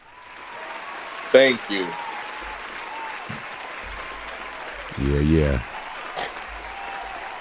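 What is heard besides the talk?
round of applause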